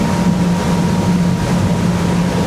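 Steady, loud drone of the engines on a Navan S30 motorboat running at speed in flat water, with rushing water and wind noise and no talking.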